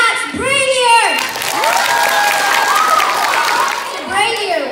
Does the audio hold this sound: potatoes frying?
no